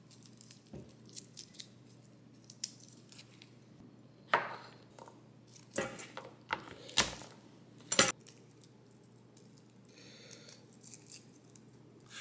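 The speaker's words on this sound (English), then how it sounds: "So go ahead and smash and de-shell all of your garlic." Garlic cloves are smashed and peeled for a ribeye steak, giving scattered sharp cracks and thumps, a few loud ones standing out, among quiet rustling and tapping in an otherwise still room.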